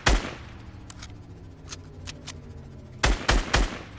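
Fortnite gunfire aimed at an ATK: a loud burst of shots opens, scattered fainter shots follow, and a tight cluster of three or four loud shots closes the stretch.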